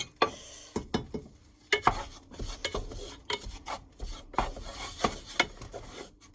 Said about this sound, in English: Right, now stir it in.